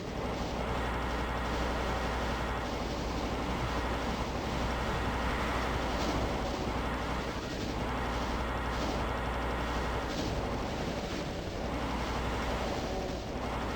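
Plasma gun firing continuously in Doom II, with dense, sustained rapid energy blasts and crashing impacts forming a loud, unbroken wall of game combat noise.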